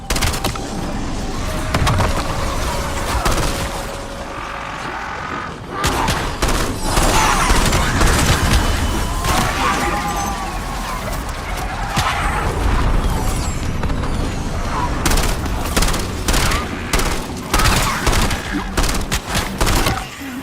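Gunfire fills a Call of Duty BO7 Zombies battle: dense bursts of automatic fire and repeated booming shots crowd together almost without pause, loud and close, with a few brief shouted voice lines in between.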